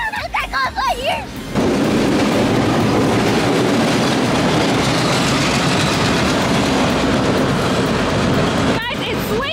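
A steam train roars past at close range, switching tracks, loud and continuous with rattling wheel noise, after a few seconds of voices; the din cuts off abruptly near the end.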